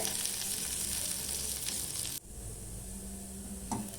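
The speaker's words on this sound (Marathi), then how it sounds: "कांदा छानपैकी परतून घ्यायचा आहे" Chopped onion sizzles steadily in a hot pan while being sautéed for a masala, with a constant frying hiss broken by a brief stir or shift of the pan partway through.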